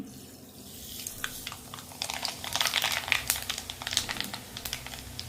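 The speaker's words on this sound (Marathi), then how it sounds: "मोहरी छान तडतडली" Mustard seeds crackle in hot oil while a tempering is made for chivda, giving a fast, irregular patter of sharp pops that grows busier, close and moderately quiet.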